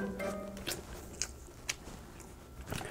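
Beef short ribs being bitten and chewed up close, with a handful of soft, wet bites and faint crunchy clicks spread sparsely over a quiet background.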